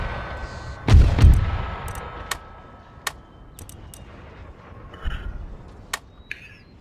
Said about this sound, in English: It's mortars, I hate that sound.